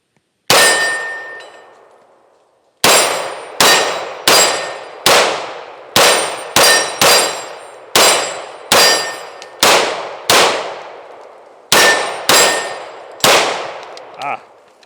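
CZ P-09 C Nocturne pistol fired single action at three steel plates: a dozen sharp metallic clangs, each ringing out and fading, spaced irregularly with brief pauses, loud and close.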